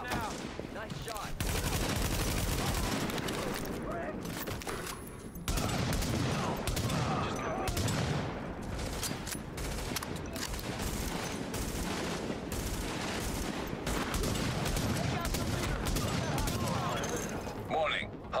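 Dense, continuous gunfire from the video game Tom Clancy's The Division rattles almost without pause, with bursts and explosions layered under shouted voices.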